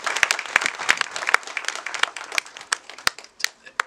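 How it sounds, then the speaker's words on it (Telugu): Audience at a film teaser launch event for Tribanadhari Barbarik breaks into loud, sustained applause, dense clapping from many hands with sharp individual claps standing out, steady for several seconds. "అసలు అందరూ గట్టిగా చప్పట్లు కొట్టండి"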